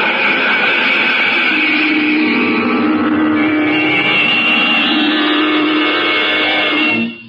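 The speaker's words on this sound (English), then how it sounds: "Its exhaust tube spitting smoke and flame, the rocket hovers over the ground for an instant, then quickly accelerates" Rocket ship blast-off effect for a space-cadet radio drama: a loud, continuous roaring rumble that swells and shifts in pitch for several seconds before cutting off abruptly.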